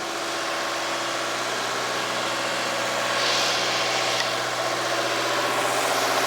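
A car engine holds a steady run at about 2,000 RPM during an intake cleaning service, giving a continuous even drone with vibration, close by and alone, with a slight swell midway.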